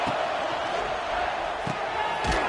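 Football stadium crowd at a USC game, a steady broad roar filling the whole stretch with a few thumps and louder swells near the end.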